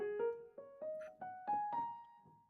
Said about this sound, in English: there's also like the pentatonic scale, right? That sounds like this